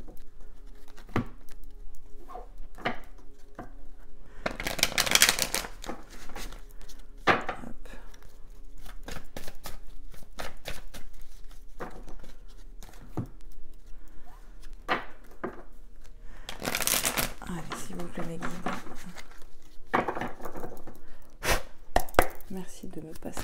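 Oracle cards being shuffled by hand, giving a run of crisp riffling and tapping bursts at irregular intervals, some stronger flurries among lighter clicks, close by and alone without talk.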